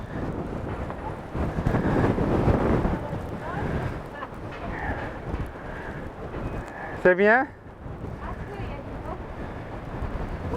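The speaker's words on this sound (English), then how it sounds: "It's really windy here." Strong wind buffets the microphone on a hill above Orange, France, near ruins and a Roman theatre, gusting loudly throughout while a person briefly speaks.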